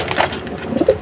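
A breeder pigeon coos close by, a short soft throaty call repeated twice within a second, with no other sounds.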